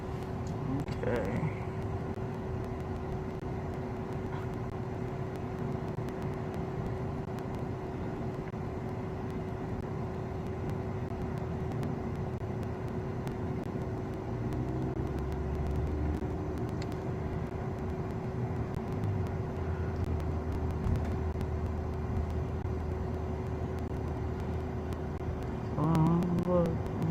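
Car idling and creeping along in a traffic jam on a road trip, steady low engine and road rumble throughout with a constant hum, muffled voices talking inside the cabin.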